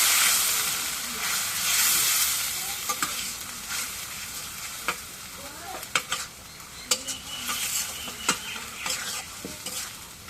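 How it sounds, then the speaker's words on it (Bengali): Duck meat stirred in a pan with garlic and cumin paste, a soft sizzle under repeated scrapes and clinks of a spoon against the pan, close and intermittent. "এখন রসুন বাটা জিরা বাটা দিয়ে দিই নাড়া দেব"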